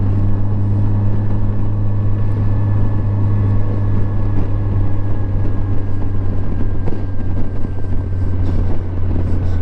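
Steady engine drone of a 2007 Yamaha FJR motorcycle with a replacement engine, riding along with a constant low hum and wind noise, loud and close throughout.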